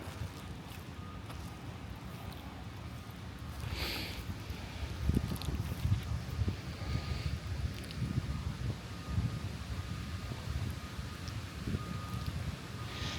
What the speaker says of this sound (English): Oh, kind of windy today.